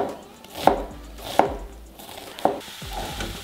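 Three crisp knife strikes on a cutting board as a small onion is diced, spaced a little unevenly, with a faint sizzle in the background.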